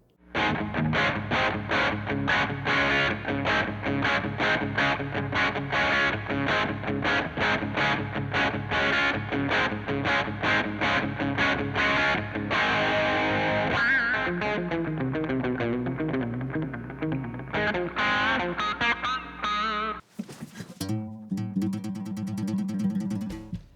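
A heavily distorted electric guitar plays a tight, palm-muted chugging rhythm, loud and steady, breaking into a brief different passage near the end.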